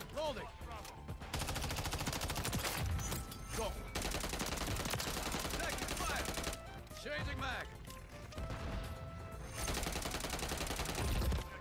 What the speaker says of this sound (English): Who else was shooting at me?